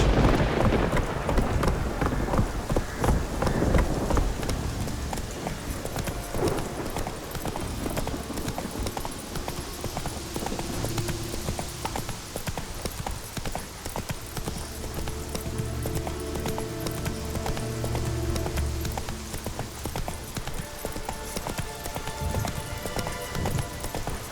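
Hooves of the horse Roach pound out a steady, rapid gallop in The Witcher 3, close and continuous for the whole stretch, with wind rushing behind and a few brief voice-like sounds.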